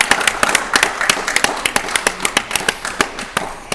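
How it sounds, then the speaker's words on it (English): Short burst of audience clapping for a contestant on an antiques game show, a run of sharp, fairly close claps in an uneven rhythm, thinning out toward the end. "Round of applause for Richard."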